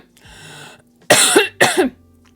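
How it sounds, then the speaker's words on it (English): A woman coughs twice in quick succession, close and loud, after a brief lower throaty sound and some faint background hum. "I'm just gonna pause and cough for a moment"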